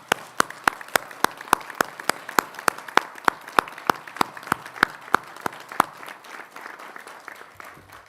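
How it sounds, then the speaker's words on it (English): At a college graduation ceremony, an audience gives a round of applause, with one set of sharp, close claps striking in a quick regular rhythm over softer crowd clapping that thins and fades toward the end. "I want to give them a round of applause."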